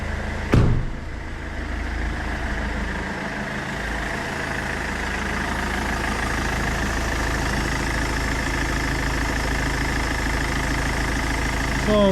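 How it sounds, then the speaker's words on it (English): A Peugeot 407 2.0 HDi diesel engine idles steadily and evenly, close by, after a short knock at the start, with no talk over it. "The engine is working good."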